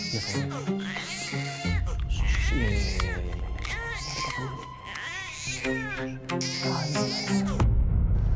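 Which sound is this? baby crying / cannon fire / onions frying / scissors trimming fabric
baby crying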